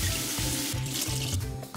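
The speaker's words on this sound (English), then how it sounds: "you take a sponge, you run it under some water" A sponge is held under a running kitchen tap, water splashing and gurgling steadily at close range for a brief moment, with slight changes in the flow as the sponge moves.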